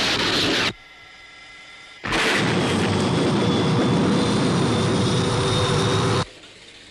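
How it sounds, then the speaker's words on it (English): A jet aircraft engine roars past loud and close in a sci-fi missile-strike scene: a brief burst at the start, a quieter gap, then a sustained, powerful broadband roar for about four seconds before it cuts off abruptly, with no talking. "Paul, there's another aircraft."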